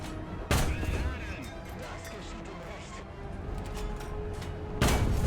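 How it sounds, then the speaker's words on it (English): Tank cannon fire in the War Thunder game: two sharp, loud shots roughly four seconds apart, with engine rumble and battle noise in between. "To further humiliate the enemy, we will also shoot them while they can only sit and watch."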